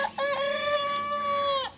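A single young chicken, one of a backyard flock being raised for butchering, gives a drawn-out, tonal crowing call lasting over a second, close and clear, with no voices.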